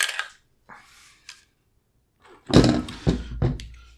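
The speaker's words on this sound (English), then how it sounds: "you're going to pull your bolt assembly and your spring right out." Bolt assembly and recoil spring pulled from a Palmetto State Armory JAKL rifle, close metallic clicks and a heavy sliding thunk followed by a few more clacks.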